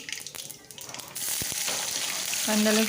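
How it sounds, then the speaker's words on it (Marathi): Onion and garlic dropped into hot oil with cumin and mustard seeds in a kadhai for a Marathi tempering, a sudden loud hiss that swells into a steady close sizzle, with a voice talking over the end. "कढईमध्ये टाकू तेल, जिरं मोहरी टाकायची अर्धा चमचा। त्याच्यानंतर टाकायचं कांदा लसूण"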